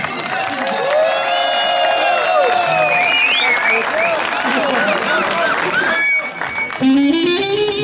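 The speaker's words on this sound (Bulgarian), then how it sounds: "Аплодисменти за тях!" Guests at a Bulgarian wedding break into loud, sustained applause and cheering for the newlyweds, a dense crowd roar with whoops and voices that runs throughout.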